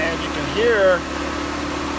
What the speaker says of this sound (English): the blower's blowing, and I'm feeling air coming out of here